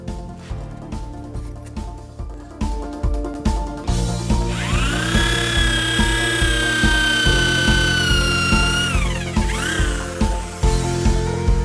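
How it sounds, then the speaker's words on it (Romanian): A power drill bores holes into a wall for wall plugs, its motor whining and rising in pitch in repeated bursts, loud and close, with rhythmic knocking between the drilling runs. "Și dăm găurile pentru dibluri."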